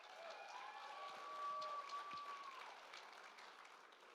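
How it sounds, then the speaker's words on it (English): Faint, distant applause rises from the crowd at the Miss Indigenous Canada 2024 pageant. It swells briefly and then eases, with a thin whistle-like tone riding above the claps. "Okay, everyone, give another round of applause for Alexis."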